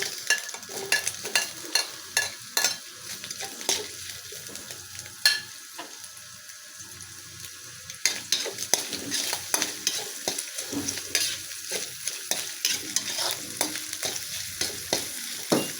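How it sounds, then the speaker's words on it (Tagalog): Onions sautéing in hot oil for pork igado, loud crackling sizzle with repeated spatula stirs and scrapes at close range, growing busier in the second half. "Magigisa na tayo. Unahin natin ang sibuyas."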